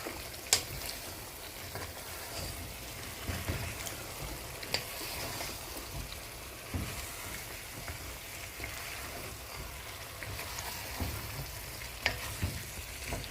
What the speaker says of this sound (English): Add in my carrots. And give it a good mix.